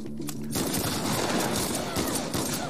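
Dense, continuous gunfire from The Last of Us Part II rattles on for nearly three seconds after a brief quieter start, loud and sustained like a heavy barrage of rapid shots.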